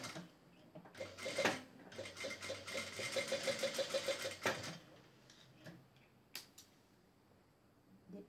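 A sewing machine stitches a seam in knit fabric for a chemise dress, a soft rapid mechanical chatter over a few seconds, fairly quiet, with scattered handling noises before and after.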